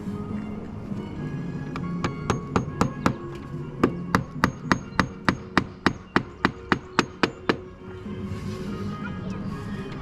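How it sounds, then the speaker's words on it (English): Steady, evenly spaced hammer blows drive nails into a slate roof during a repair, about twenty sharp strikes in a quick rhythm, close by over a low background hum. "All right, so we're gonna nail this in"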